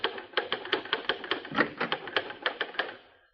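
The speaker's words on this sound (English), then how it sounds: "we see Christopher Hudson, the successful society writer, working at the typewriter in his study" Typewriter keys clacking at a steady rhythm, about a dozen crisp strikes in a writer's study as a radio drama effect, close and clear, ending in quiet.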